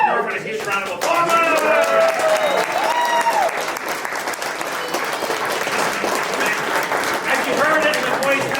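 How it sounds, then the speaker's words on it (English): Loud, sustained round of applause from an audience at a Cub Scout Pack crossover ceremony honoring Norman, steady dense clapping with cheers and voices mixed in throughout. "let's everybody give Norman a huge round of applause."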